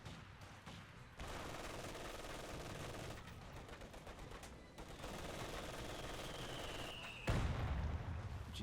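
Machine gun fire from a Company of Heroes 2 ranked 2v2 battle crackles in dense, sustained bursts with overlapping rapid shots, steady and fairly close, with a brief pause and a heavier impact near the end.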